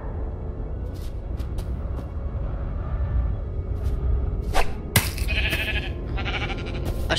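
Sheep from the video game Minecraft Story Mode bleat over a steady low rumble of background game ambience, with a few short bright calls bursting out near the end.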